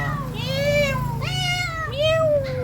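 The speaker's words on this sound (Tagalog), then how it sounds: "gutom na yung mga alagang pusa" Several hungry pet cats meow in turn, three long rising-and-falling calls close by over a steady low background hum, with no talking.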